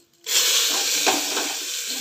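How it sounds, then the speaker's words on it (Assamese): Cashews and raisins dropped into hot oil in a pan while cooking pulao; a sudden loud sizzle starts after a brief quiet moment, then a steady bright hiss of frying continues close by. "এতিয়া কাজুখিনি দি দিম এক্সট্ৰা এক্সট্ৰাকৈ ভাজিব লাগে কিন্তু মই একেলগে ভাজিম আৰু এতিয়া কিচমিচখিনি দিম"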